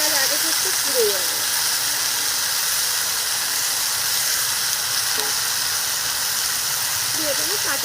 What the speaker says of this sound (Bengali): কচুর ফুলের সঙ্গে কিন্তু পেঁয়াজটা ভাজা হয়ে যাবে।